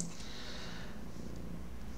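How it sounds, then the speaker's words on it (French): A cat purrs softly and continuously up close, a low steady rumble with faint breathy texture and no talk. "Si vous entendez du ronronnement, c'est elle."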